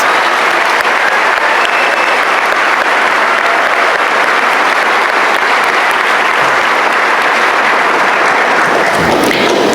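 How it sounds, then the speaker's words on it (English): Sustained applause from a large crowd at a high school graduation ceremony, steady and dense clapping filling the whole stretch without a break. "Please give these students a round of applause."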